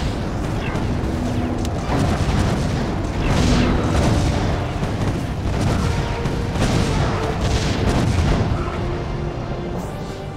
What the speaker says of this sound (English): Setting on cannon fire!